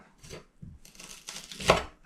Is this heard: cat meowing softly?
no